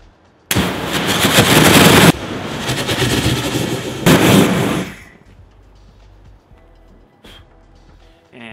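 Homemade fire extinguisher flamethrower with a larger machined nozzle, two loud sustained rushing bursts of several seconds each, separated by a short gap, then quieter outdoor background.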